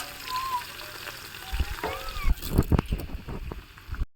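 Onions fry in oil in a pan with a soft, continuous sizzle, joined by louder stirring and scraping toward the end, while a voice speaks faintly in the background.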